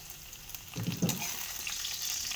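Fish frying in a hot pan, with a soft steady sizzle throughout and a brief burst of louder crackling near the middle as the fish goes in. No one speaks.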